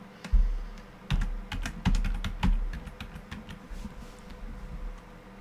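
A new password typed on a computer keyboard at a Falcon FMS console, a burst of close, clicky keystrokes in uneven clusters that taper off into quiet.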